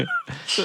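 A single sneeze close to the microphone, a short wailing burst followed by a sharp breathy release, brief and loud in an indoor room.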